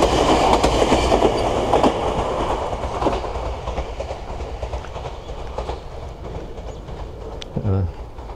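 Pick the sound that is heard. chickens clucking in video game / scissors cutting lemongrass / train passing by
train passing by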